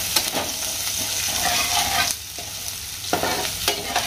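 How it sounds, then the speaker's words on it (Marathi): Ginger-garlic paste sizzles and fries in a pan for biryani, a steady close crackle with scraping stirring strokes punctuating it. "त्यानंतर ही आलं लसणाची पेस्ट टाकायची. आणि चांगलं फ्राय करून घ्यायचं."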